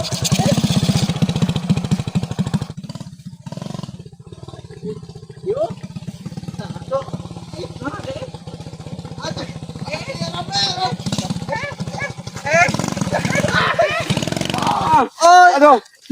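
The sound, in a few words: motorcycle engine revving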